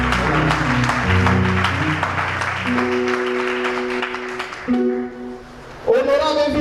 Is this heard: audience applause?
yes